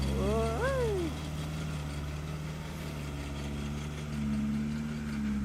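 A motorcycle engine idles steadily with an abnormal dry rattling from the cylinder head, a low continuous drone close by, while a short voice or whine rises briefly at the start.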